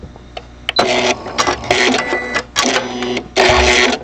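A sewing machine stitches a hem in loud, rapid bursts of whirring, starting and stopping several times in short runs with brief pauses between.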